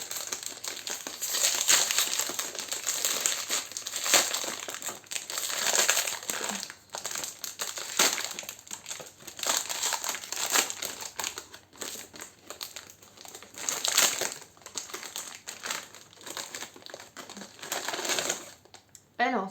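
A packet of Phytos cheddar snacks is crinkled and handled up close, producing repeated bursts of loud crackling plastic that continue for about twenty seconds.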